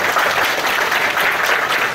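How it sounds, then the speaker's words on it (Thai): Audience applause for the speakers at the close of a Thai AI talk event, a steady, dense clapping from a full room that continues evenly throughout without pause. "ขอรบกวนปรบมือให้กับทางวิทยากร"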